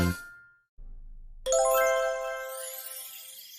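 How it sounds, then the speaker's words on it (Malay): A single bright bell ding rings out after a brief pause and low hum, its clear metallic tone slowly fading. "tekan loceng untuk notification"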